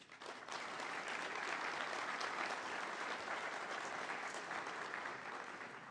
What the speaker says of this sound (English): for whom I kindly request a round of applause